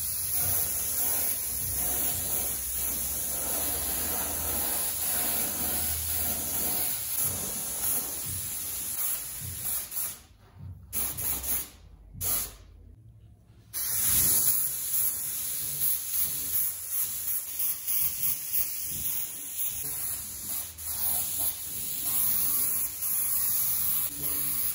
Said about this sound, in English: we'll whip out the old Harbor Freight spray gun here. Hopefully it's not clogged, and we'll shoot some primer real quick